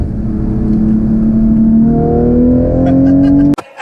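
A stage 2 tuned 2020 Toyota Supra accelerating in manual mode, its engine note climbing steadily in pitch as it pulls hard and loud up through the revs, then cut off abruptly by a sharp shift.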